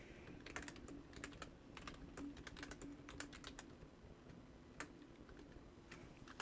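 Keys tapped on a computer keyboard in an irregular run of light, close clicks over a faint steady hum, quiet and with no speech.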